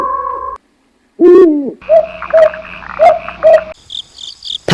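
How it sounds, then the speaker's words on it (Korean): Night-time crickets chirp in short bright pulsing trills, mixed with an owl-like hoot and other croaking insect and frog sounds, loud and close, with a brief gap of silence near the start. "낮에 시끄럽던 수채화는 이제 귀뚜라미 소리만이 요란할 뿐이었다."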